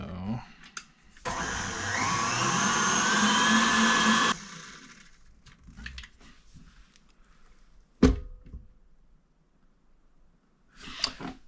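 An electric mixer whisks egg whites into macaron meringue, a close, loud whirring burst lasting a few seconds, then quieter clatter and handling, a sharp knock, and a brief final whir.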